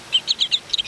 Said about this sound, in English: It's an American goldfinch.